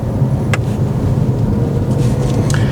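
A Genesis G70 3.3T driven in custom mode with stability control switched off produces a continuous low engine drone and road rumble heard from inside the car, steady over a short stretch with a couple of faint clicks.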